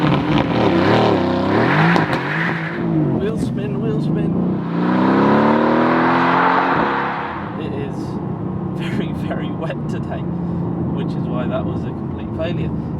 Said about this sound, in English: what better to start off with than a bit of launch control